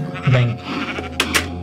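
A Minecraft sheep bleats once, close and clear, followed by a couple of short sharp game sounds.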